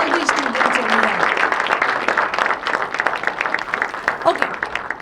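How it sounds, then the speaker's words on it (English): Applause for students at a pre-departure gathering, a dense, steady crackle of many hands clapping together for about five seconds, close and loud, with a voice speaking over the start. "A big, big, big round of applause to all these students over here."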